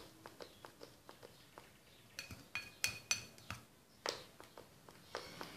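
A metal spoon clinks against a bowl while spoonfuls of aloe vera gel and other skincare ingredients are added, giving a series of light, close taps and sharper rings at an irregular pace.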